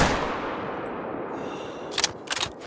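A hunting rifle fires once, loud and close, in theHunter: Call of the Wild at Te Awaroa, its long echo fading out before two short bursts of metallic reloading clicks.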